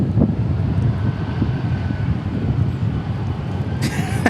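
Gusty wind buffets the microphone at Dallas Fort Worth Airport in a steady low roar and rumble, and a sharper burst of noise comes near the end.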